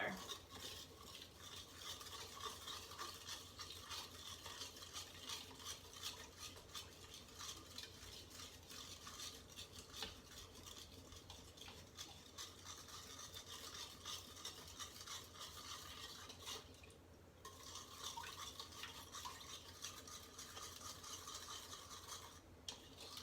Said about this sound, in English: use our spoon to stir it up so it all gets mixed together